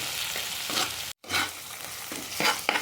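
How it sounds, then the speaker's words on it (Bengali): Ground onion frying in a pan, a close crackling sizzle with stirring scrapes and one brief dropout partway through. "এখানে আমি পেঁয়াজটাকে হালকা করে ভেজে নেব"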